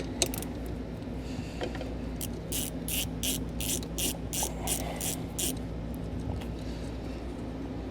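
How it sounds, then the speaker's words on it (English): A 10mm socket wrench ratchets a nut loose on a vehicle while a towed-vehicle battery charge line kit is fitted, with a steady run of rapid metallic clicks over a constant low mechanical hum, with no talking. "we're going to take a 10mm socket and we're going to remove that nut there"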